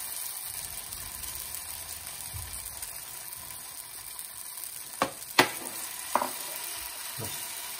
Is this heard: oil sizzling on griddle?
yes